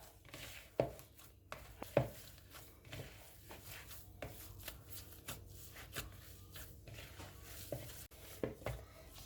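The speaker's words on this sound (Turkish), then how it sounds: "Bunu güzelce yoğuruyoruz" Hands knead minced meat seasoned with black pepper, giving soft, irregular squelching slaps and presses close by at a quiet level, with no voices.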